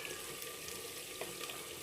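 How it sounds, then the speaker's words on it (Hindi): Water pours in a steady, close stream into a cooking pot of spiced potato and eggplant curry, a continuous splashing rush lasting about two seconds with no speech. "ये हल्का हल्का इसके अंदर हम पानी डालेंगे।"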